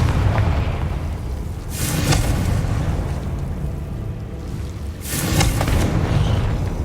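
In Hogwarts Legacy, the Confringo blasting spell sets off two deep, rumbling explosions a few seconds apart, each a heavy boom that swells and fades over a low ambient game background.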